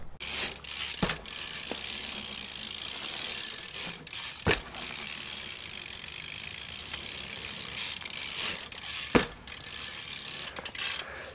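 Bicycle freewheel ratcheting in quick bursts during small bunny hops, with a few sharp landing knocks spaced several seconds apart over a low, steady background.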